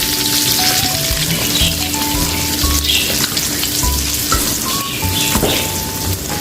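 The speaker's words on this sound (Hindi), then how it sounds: "और इसको हमने भूनना है हल्की आंच पे।" Moong dal frying in desi ghee over low heat, a loud steady sizzle with stirring scrapes and soft clatter running throughout, no voices.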